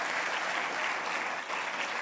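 A church congregation applauds in a steady, dense wash of clapping that stays fairly even for about two seconds.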